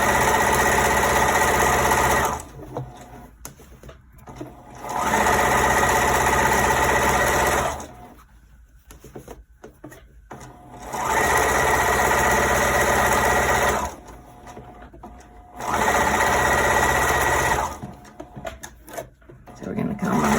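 A sewing machine stitches a hem and finishes with a back stitch, running in steady loud bursts of a few seconds each. Quieter pauses with faint handling noise separate the bursts.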